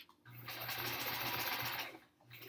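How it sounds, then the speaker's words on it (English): A sewing machine stitches through the sides of a quilt top in one steady, fast whirring run of about two seconds, close and clear with a faint hum before and after. "let's sew through these sides"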